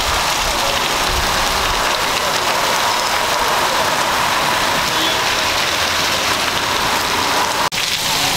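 Heavy rain falls in a dense, loud, unbroken hiss of drops on surfaces, close by, with one brief knock near the end and no talking.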